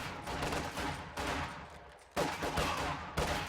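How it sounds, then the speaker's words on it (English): Gunfire rings out in a strategy video game as a sniper fires, heard as several dense bursts of shots that start and stop abruptly in quick succession, moderately loud with no voices. "Taking sniper fire!"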